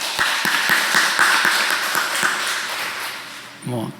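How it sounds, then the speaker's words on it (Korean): A church congregation claps to welcome a young man back from military service, a run of distinct, fairly close claps that thins out over a few seconds, with talk underneath and a short voice at the end. "우리 박수로 환영하겠습니다."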